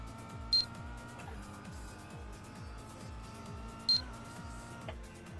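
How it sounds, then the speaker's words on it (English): Two sharp electronic beeps, about three seconds apart, cut through the steady drone of a touring car engine heard from inside the car during a club race at Summit Point, with a fainter click near the end. "the beeping that you can probably hear on the stream"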